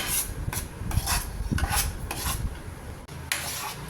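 A spoon scrapes and rasps against a pan while sweet potato cashew halwa is stirred, with repeated strokes at a steady rhythm, close and fairly quiet, no talking.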